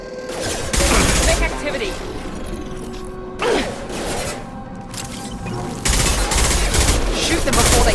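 Rapid bursts of automatic gunfire in Mass Effect 2 come in loud volleys separated by short pauses, mixed with mechanical clatter, and a voice speaks briefly.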